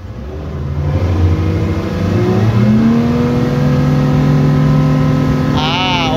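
A Yamaha 300 hp boat outboard engine on test revs up from a lower idle into a loud, sustained rising drone close by, the pitch climbing and then holding steady.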